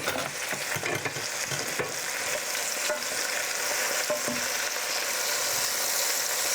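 Chopped onion and celery fry in a soup pot with a continuous bright sizzle, and a spoon scrapes and stirs through it in irregular knocks and rattles, close and alone.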